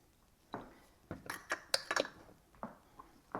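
A spoon scraping and clinking against a pot while BBQ sauce with liquid smoke is stirred, a handful of sharp, close metallic taps and scrapes in an irregular rhythm, quiet between strokes, no speech.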